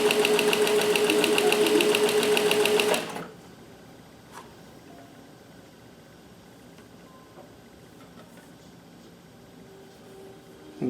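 A sewing machine with a walking foot stitching fabric, a loud, fast, even mechanical chatter for about three seconds that stops abruptly, followed by quiet room noise and faint handling clicks.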